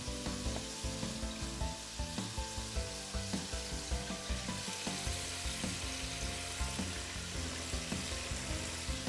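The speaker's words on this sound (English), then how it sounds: "you're gonna make that fry for roughly about a nice good 15 minutes on a medium size heat" Chicken fries in hot oil Jamaican style, a loud, dense, continuous sizzle with steady crackling close by and no talking.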